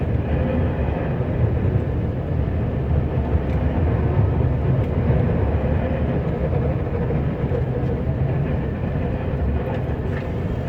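A Scania R560 plow truck rumbles steadily over tarmac in a dense, continuous low roar from inside the cab, with no voices.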